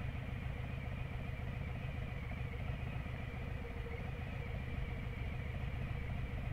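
A 2020 Harley-Davidson Road Glide, stock except for aftermarket mufflers, idling in a steady low rumbling throb, constant and moderately close with no talk.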